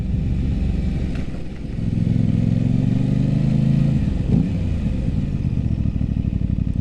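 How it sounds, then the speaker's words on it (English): An Aprilia RS 660 motorcycle engine revs while riding in commute mode, a steady parallel-twin drone that climbs under throttle then eases off, loud and close with wind rush and no talk. "God, the engine just sounds amazing."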